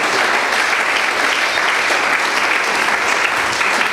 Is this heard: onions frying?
no